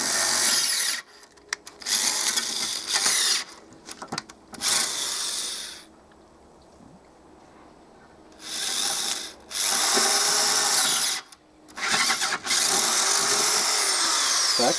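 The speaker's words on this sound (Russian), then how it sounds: "Так, все, шестерочкой просверлили." Power drill boring a hole with a 6 mm bit in a metalworking vise job, the high whine coming in several bursts of drilling separated by short pauses, fairly close and loud with no talking.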